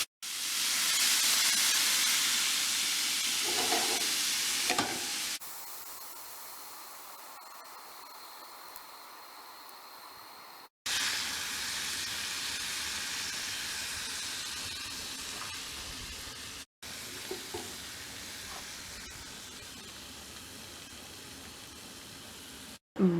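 Chicken tacos fry on an outdoor camp stove beside an old RV, a loud broad hissing sizzle that runs steadily in several long stretches, with brief cuts between them and no talk.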